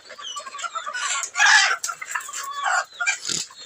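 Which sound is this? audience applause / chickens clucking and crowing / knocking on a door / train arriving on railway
chickens clucking and crowing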